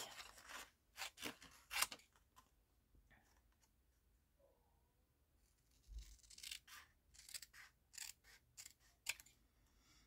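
Scissors snip through paper during a mail-art crafting session, giving a string of crisp, close cuts in two clusters separated by a quieter pause, with no talking.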